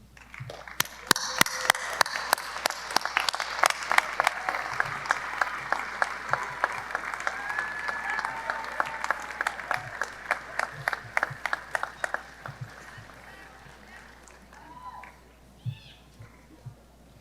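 A high school commencement audience applauds for parents and teachers, with dense clapping that builds and then thins out into scattered individual claps and a few cheers toward the end.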